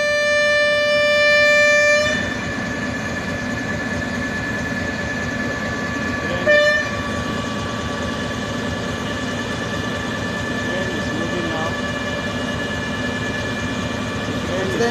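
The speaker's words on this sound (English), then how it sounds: "The train is moving now from Rigasa to Edo Station, Abuja." Abuja-Kaduna passenger train in Nigeria running between Rigasa and Abuja, a steady rumbling roll with a loud horn blast at the start, a short burst midway, and sustained horn-like tones over continuous track noise.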